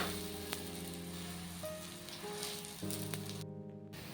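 Dahi dhapati flatbread fries in oil on a pan with a steady, soft sizzle and faint crackle, a low hum running underneath and a short quiet gap near the end.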